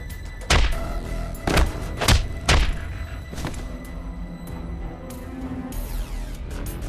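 A character is punched and kicked in the video game Ai: The Somnium Files, giving four heavy, close thuds in quick uneven succession over a low ambient drone.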